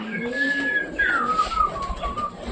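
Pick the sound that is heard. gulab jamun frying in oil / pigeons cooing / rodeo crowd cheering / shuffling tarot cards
pigeons cooing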